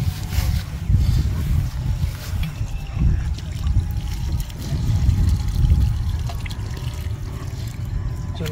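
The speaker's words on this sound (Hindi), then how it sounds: "पानी डालो, पानी डाल" Water is poured onto newly planted saplings on open ground after rain, a steady low splashing and trickling that carries on for several seconds, loud and close.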